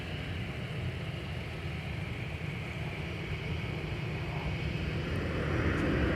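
A Delta Airbus A321 airliner at Minneapolis–Saint Paul airport gives off a steady, broad jet rumble that holds constant and grows slightly louder toward the end, heard from some distance with no talking.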